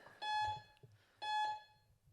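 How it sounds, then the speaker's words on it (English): Electronic timer at a CrossFit competition giving two identical loud beeps about a second apart, each a steady tone lasting roughly a third of a second, with faint background noise between them. "will we just wait for the beep?"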